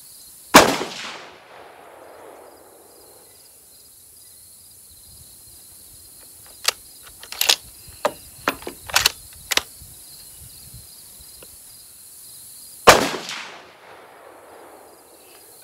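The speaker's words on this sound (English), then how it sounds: "let's just do a little shooting and see what we can do" .308 rifle shots with PPU 155 gr and Federal 168 gr Gold Medal match ammunition, outdoors: two loud, sharp single reports far apart, with a cluster of quieter clicks and knocks between them over a faint insect hum.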